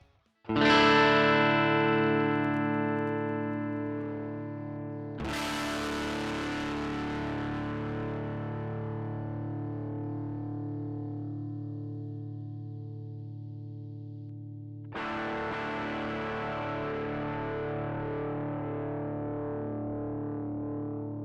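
A distorted electric guitar run through an Axe-FX III with cab block filtering rings out in three sustained chords, each struck hard and left to decay slowly into a thick, buzzing tail.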